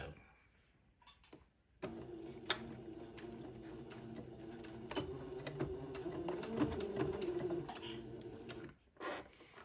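A domestic sewing machine stitches a little white dress with a steady, continuous mechanical whir, starting abruptly after a short quiet lead-in, running close and moderately loud, and stopping near the end.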